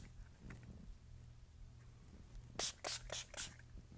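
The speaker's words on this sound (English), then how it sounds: "Face and Body Spray. Let's spray this." Several short hissing bursts from a Revolution Glow Illuminating Face and Body Spray pump mist, coming in a quick close-up series after a stretch of quiet room tone.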